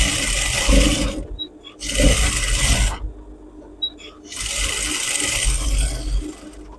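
Loud, close sewing machine stitching ladies' pants, running in three whirring bursts separated by short pauses with small clicks, no talking.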